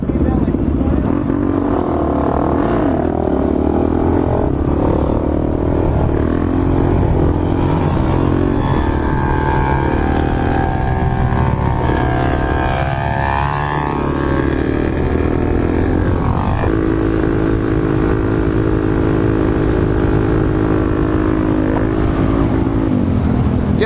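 A group of dirt bikes ride together in Phoenix, Arizona, with loud, close engine drone and rising and falling revs over heavy wind buffeting for the whole stretch.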